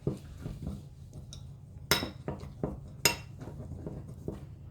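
Slime mixture being stirred in a bowl, with repeated clinks and scrapes of a utensil against the bowl in an irregular rhythm, two sharper knocks standing out, close and fairly quiet.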